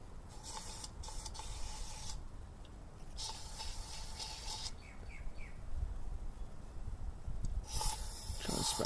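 Aerosol spray can blasting into the engine bay of a Holden Cruze 1.4T, several separate bursts of hissing, each lasting about a second, with short pauses between them and faint background noise.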